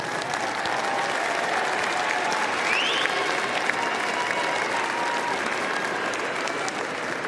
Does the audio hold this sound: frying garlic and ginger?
no